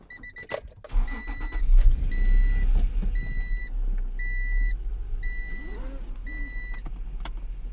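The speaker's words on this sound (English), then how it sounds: "Go ahead and start it up." A 1996 Acura NSX-T engine cranks and fires up, then settles into a steady low idle, with repeated chime beeps from the car sounding over the engine at close range.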